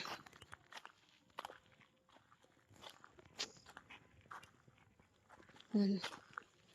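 Soft footsteps and low voices in a quiet, dark space at Agastheswara Kona, Gandikota, then a short, sharp dog bark close by near the end.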